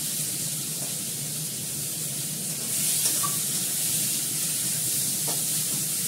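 Potatoes, ginger and onion frying in a pan give off a steady, soft sizzling hiss that runs evenly throughout, with no talking.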